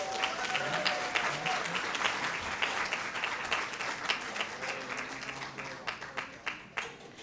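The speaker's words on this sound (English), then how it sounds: "So please, everyone, give them a round of applause." An audience at a volunteer recognition luncheon applauds, a dense wash of clapping that thins into scattered individual claps near the end, with some voices mixed in.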